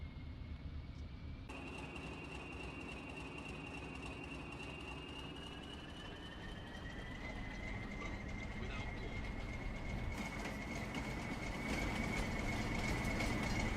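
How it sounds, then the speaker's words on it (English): A train engine originally built for torpedo boats, heard in the farming game Farming Simulator 25, rumbles steadily with a rising whine and rail noise, growing louder toward the end, with talk over it. "Originally built for torpedo boats, I think, but then they put it into a train, and it's got its own unique sound."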